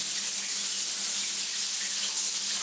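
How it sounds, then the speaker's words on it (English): Rain shower head running steadily in a renovated bathroom, a continuous broadband hiss of water spray falling close by, unbroken and even throughout with no voices. "the rain shower will go on"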